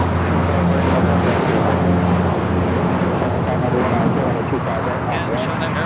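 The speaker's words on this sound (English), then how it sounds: "And China Airlines A350-900 coming in from Taipei." A China Airlines Airbus A350-900 arriving at LAX from Taipei roars steadily and loudly throughout as it passes, while a voice talks over the engine noise.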